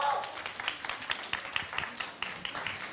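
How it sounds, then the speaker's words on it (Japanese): An audience applauds at a winner's award ceremony following a boat race at Boat Race Toda, a dense steady wash of clapping that carries on throughout with some crowd noise mixed in. "皆様盛大な拍手でお迎えください。"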